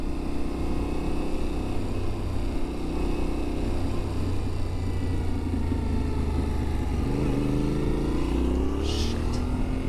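A Yamaha Tenere 700 motorcycle rides along, its engine droning steadily under wind rush, the pitch climbing slightly toward the end as it accelerates.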